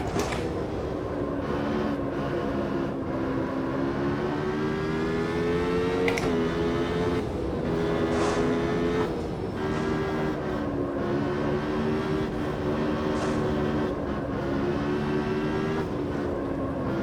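A race car engine drones loud and steady through a lap in the racing game Automobilista 2, its pitch rising and falling with gear changes, joined by occasional brief higher whines.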